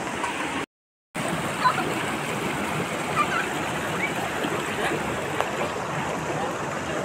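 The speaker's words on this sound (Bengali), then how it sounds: "যোগীঘাট নদী প্লাস ঝর্ণা।" A river and waterfall at Jogighat in North Bengal's hills give a steady, broad rushing roar that stays constant throughout, with a brief dropout near the start and no voices.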